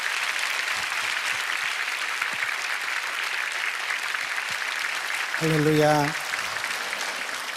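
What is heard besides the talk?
congregation applause welcoming a pastor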